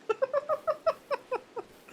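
A pet cat in the video game Rimworld cries for attention in a rapid, evenly spaced string of about a dozen short, chirpy meows, close and fairly loud, with no talking over them.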